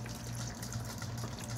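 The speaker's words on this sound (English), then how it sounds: "I'm going to take beef broth and I'm going to put all of it in there" Beef broth pours steadily into a pot of beef stew, a continuous close liquid rush with a low gurgling hum throughout, no speech.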